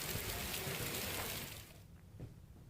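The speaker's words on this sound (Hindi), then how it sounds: "लगातार मूसलाधार बारिश आज सुबह से हो रही है" Heavy rain falls in Jammu and Kashmir, a loud dense wash of downpour that fades abruptly partway through to a quieter patter.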